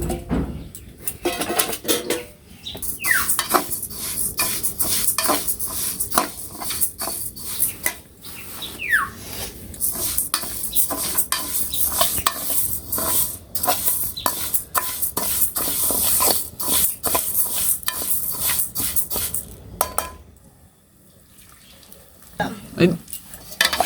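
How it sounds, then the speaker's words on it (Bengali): Mung dal and vegetables fry in oil in a village kitchen, giving a steady bright sizzle with frequent clinks and scrapes from a spoon stirring the pan, and a brief lull near the end. "মুগ ডাল আর সবজিগুলো এই যে ভেজে নিব।"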